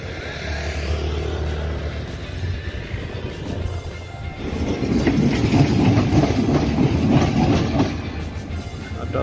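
A girder launcher for a high-speed railway moves along its track east of Padalarang station, travelling under its own power without wagons. It gives a steady rumbling drone that grows louder and heavier midway, with mechanical rattling over broadband noise.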